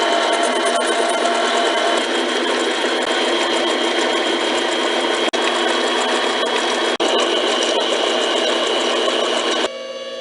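A machine cutting a large top part in fine passes of about 0.03 inch, a loud continuous mechanical whir with a rapid ticking texture, broken by two short clicks and then dropping off near the end.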